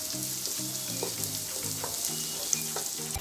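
Onions frying gently in a pan over low heat, a continuous soft sizzle beneath a repeating tonal pattern of music.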